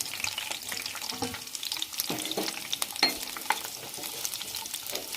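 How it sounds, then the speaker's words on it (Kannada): Capsicum and onion fry in hot oil, a moderate, crackly sizzle with intermittent stirring scrapes and spatula knocks, close and continuous without talk. "ಹಾಕ್ಕೊಂಡು ಇದನ್ನು ಸ್ವಲ್ಪ ಫ್ರೈ ಮಾಡಿ."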